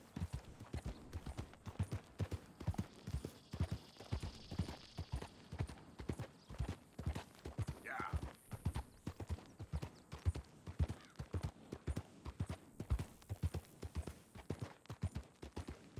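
Horse hooves clip-clop in a fast, steady galloping rhythm as a rider travels in Red Dead Redemption 2, close and continuous, with a brief whinny partway through.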